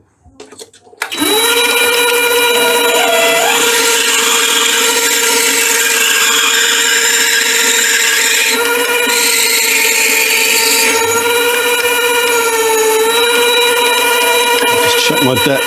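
A power tool whines loudly and steadily after a brief start-up, its pitch wavering slightly as it grinds rust off a metal drill bit, running continuously without pause.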